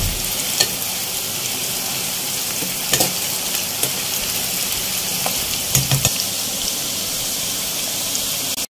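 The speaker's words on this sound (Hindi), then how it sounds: "प्याज को हमें यहाँ इतना फ्राई करना है कि इसका कलर चेंज हो जाए" Onions fry in a pan at the start of a kadhi pakora recipe. A loud, continuous sizzle is heard up close with scattered spatula stirring clicks, and it cuts off abruptly at the very end.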